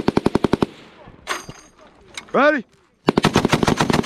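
An M2A1 machine gun fires cyclic bursts: a rapid, loud string of evenly spaced shots, then a pause with a shout and a short metallic clatter, then another fast burst. People shout during the pause.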